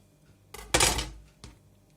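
A few short clattering knife-on-plate sounds while slicing liver pâté, one louder scrape in the middle, then a fainter tap; close and clear with no talking.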